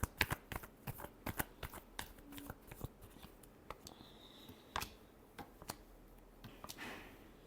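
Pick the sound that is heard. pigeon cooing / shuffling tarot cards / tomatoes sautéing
shuffling tarot cards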